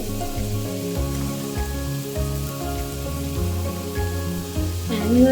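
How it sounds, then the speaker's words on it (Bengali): Salted chicken masala paste sizzling in a pan as it is stirred, a steady close frying hiss under a sustained musical background, with no talking. "লবণ দিয়ে আমি এটা সুন্দর করে একটু নেড়ে চেড়ে দিয়েছি।"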